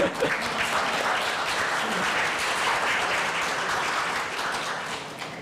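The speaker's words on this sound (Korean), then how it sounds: "박수 보내주세요." A forum audience bursts into sustained applause, a dense, steady wash of clapping that holds for several seconds at full strength before easing slightly toward the end.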